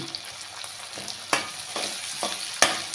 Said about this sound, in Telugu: దీన్ని బాగా ఉల్లిగడ్డ బాగా వేగాక 2 పచ్చిమిర్చి ముక్కలు తరుక్కొని